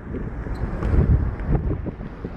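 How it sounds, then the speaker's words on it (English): Strong wind buffets the microphone on a cruise ship deck, a steady low roar with gusty swells rising and falling close to the mic, with no voices. "that was some wind"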